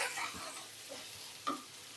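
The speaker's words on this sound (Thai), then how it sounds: "ผัดไปเรื่อยๆได้น้ำบวบออกค่ะ" Quiet sizzling from a wok as sponge gourd with egg is stir-fried, with soft stirring scrapes and a light clack of the utensil; no talking.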